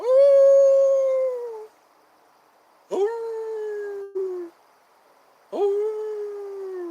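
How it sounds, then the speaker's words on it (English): A dog howls in long, wolf-like wails, three drawn-out tones separated by short pauses, loud and close, each sliding slightly in pitch before trailing off. "Oh, that's a dog. Sounded like a wolf."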